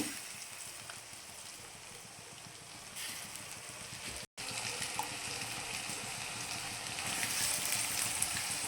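Brinjal pieces fry in hot oil with onions, giving a steady soft sizzle and crackle throughout with one brief dropout midway.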